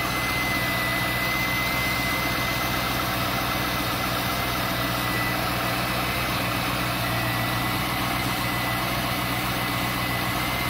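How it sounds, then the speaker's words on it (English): A C5 Corvette engine with a broken harmonic balancer idles steadily and close, a dense low rumble with heavy vibration running unbroken and alone. "Some crazy engine vibration."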